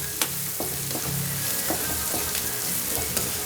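Turmeric and cumin seeds frying in oil in a pan for aloo kurma, a constant close sizzle with a few light spoon taps and scrapes, no voices.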